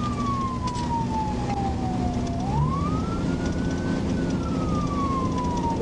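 An Arkansas State Police car siren wails loud and continuous during a highway pursuit at about 74 mph, its pitch falling, then rising and sliding down again over a constant roar of road and engine noise.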